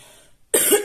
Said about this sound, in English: I still have to cough from time to time since I got a cold 3 weeks back